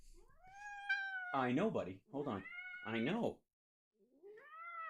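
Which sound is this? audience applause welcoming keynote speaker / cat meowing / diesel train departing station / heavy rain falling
cat meowing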